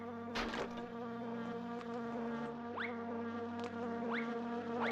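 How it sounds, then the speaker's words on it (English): Bees in a video game drone with a steady, close, tonal buzz that holds throughout, with a sharp thump near the start and several rising whooshing swoops later on. "Bees everywhere."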